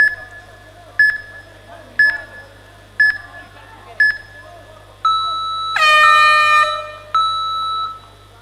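A round timer sounds at a grappling championship match: five short evenly spaced beeps a second apart, then a long loud electronic horn blast and a final tone, with a quiet crowd murmur underneath.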